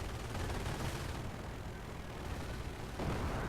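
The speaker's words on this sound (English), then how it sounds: "Mortar's doing a little bit of damage on the PE there" Mortar fire and explosions in a tournament match of a World War II strategy video game, a continuous dense rumble of distant blasts and gunfire with no clear separate hits.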